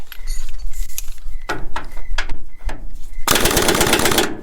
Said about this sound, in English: we can try the gun again, guys, but it's out of air